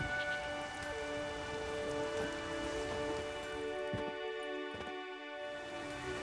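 Steady rain falls in Skellige in a video game, a soft continuous patter on surfaces that runs throughout with no talk, faint background tones underneath.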